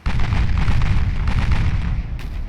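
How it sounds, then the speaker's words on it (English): Heavy naval gunfire from 8-inch battleship guns of the Imperial Japanese Navy in Ultimate Admiral Dreadnoughts, a dense rolling barrage of booms that stays loud across the whole stretch with a sharp crack near the end. "8-inch guns getting involved now."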